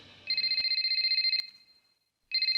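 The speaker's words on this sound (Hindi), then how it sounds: "केन, ये उसी का फोन है, इसे रिकॉर्ड करो प्लीज।" Electronic telephone ringtone in a Hindi-dubbed Hollywood action movie: a loud, steady warbling ring lasting about a second, a brief gap, then the ring starting again.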